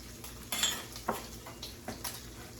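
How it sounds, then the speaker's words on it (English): Onions stirred into a pan with crisped bacon: soft clatter and scraping of a utensil against the pan in a few separate strokes over a faint, steady sizzle, fairly quiet, with no voices. "So we wanna go ahead and add our onions, get those started."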